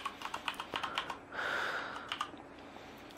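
Fingers tap the keys of a Corsair K70 gaming keyboard in a quick, even run of sharp clicks, followed by a brief breathy rush of air and a few more scattered keystrokes.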